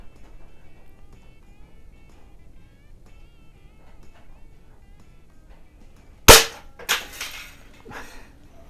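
A .22 caliber rifle fires at a target outdoors, one loud sharp crack followed by a couple of fainter follow-up impacts or echoes after a quiet stretch.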